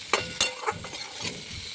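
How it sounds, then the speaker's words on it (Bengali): Taro stolons and hilsa fish head and pieces are stirred through a frying spice paste, giving a few sharp scraping strokes of a spoon against the pan over a low, steady sizzle, close and fairly clear. "মাছও একসঙ্গে মিশিয়ে নেব, তাহলে মশলাটা মাছে আর ছড়াতে মিশে যাবে।"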